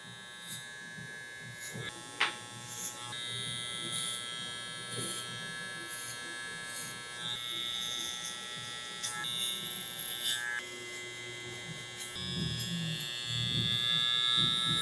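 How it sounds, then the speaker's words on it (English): An electric hair clipper buzzes steadily while cutting a low taper on curly hair, a close, continuous high-pitched whine with brief shifts in tone as it moves through the hair. "starting with our clipper in the closed position"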